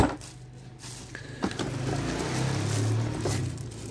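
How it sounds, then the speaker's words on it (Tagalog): A Black & Decker impact drill with hammer function runs close by, a steady motor whine rising and holding for a few seconds, with a brief rattle near the start and no speech. "matingnan natin kung maganda ba yung tunog ng Black & Decker"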